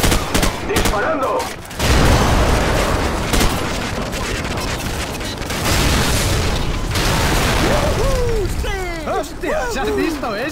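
Gunfire and explosions from the Call of Duty 4: Modern Warfare campaign, with loud bursts of automatic fire and booming blasts filling the scene, mechanical clicks, and shouting voices over the battle toward the end.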